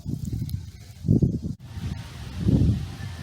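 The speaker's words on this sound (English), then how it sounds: "I'm sorry about the wind here, but it is very windy." Low, rumbling wind buffeting a microphone in gusts, with two stronger surges standing out.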